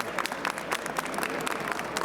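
Applause from an enthusiastic crowd at a legislative press conference announcing a House bill, a dense steady patter of clapping hands lasting a couple of seconds, fairly close and with no voice over it.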